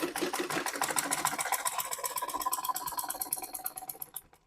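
A sewing machine stitching sleeves onto a bodice with a 1/4 inch seam, running as a fast steady mechanical chatter of rapid needle strokes that slows slightly toward the end, close and clear with no talking.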